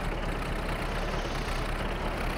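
A tractor engine idling in Farming Simulator, a loud, steady low rumble that stays constant and close throughout with no breaks.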